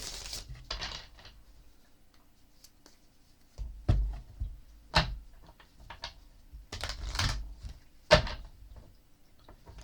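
Irregular crisp riffling and snapping bursts, close and fairly quiet, with short gaps between them, like playing cards being shuffled by hand.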